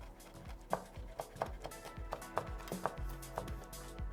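Figs chopped finely with a knife on a board, a steady run of close, crisp thuds about three per second.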